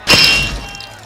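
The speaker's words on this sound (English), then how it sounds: "Moses smashed the golden calf and beat it into powder." A golden calf statue is smashed in an animated scene, a sharp loud crash with a glassy, metallic shatter that rings and decays over about a second.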